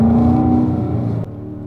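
A Corvette engine idles and runs on a track at Spring Mountain, a loud, steady, close drone with a tonal whine that drops slightly in level near the end.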